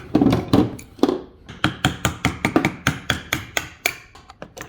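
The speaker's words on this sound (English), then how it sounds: "I'm just gonna drive a flathead through it like a wedge, and hopefully we can get this stupid thing off." A hammer drives a flathead screwdriver like a wedge into a Ford 3.03 three-speed transmission, a rapid series of sharp metallic knocks, heavier at first then lighter and quicker, close up with no speech.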